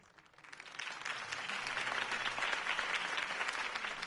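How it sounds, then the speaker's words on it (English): Crowd applause at a political campaign rally for Harvey Dent in the Batman Telltale video game, a broad sustained clapping that swells after a quiet start and stays steady and fairly close. "could have heard that applause"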